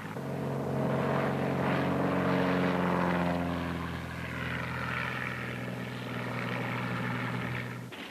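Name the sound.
propeller seaplane engine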